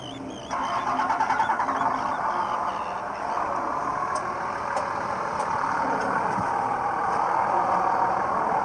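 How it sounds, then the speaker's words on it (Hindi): A car engine in Alaska turns over and catches about half a second in, then settles into a steady rumbling idle close by. "उसके अलावा गाड़ी के स्टार्ट होने की आवाज़।"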